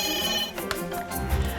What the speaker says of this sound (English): And the phone's going to go off again in a minute.